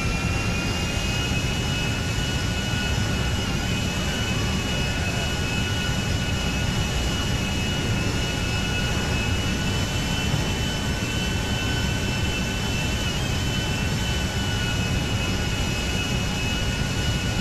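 Aircraft jet engine in Grand Theft Auto V, a steady, loud, continuous whine and roar with a constant high tone, unchanging for the whole stretch and free of talk.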